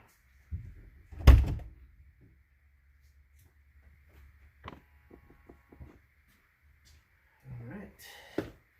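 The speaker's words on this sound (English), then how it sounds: "I'm going to go open my other door, see if I can get the dome light to come on." Door of a 2014 Jeep Wrangler JK opening with a loud latch clunk and thud, followed by quieter clicks and a faint soft knock near the end.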